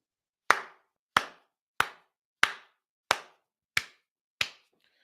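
Seven crisp hand claps in a slow, steady rhythm, close and clear against silence.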